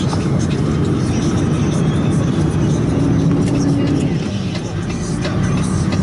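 A truck driving fast on a road, a loud steady engine drone with rumbling tire noise close by, while someone talks over it.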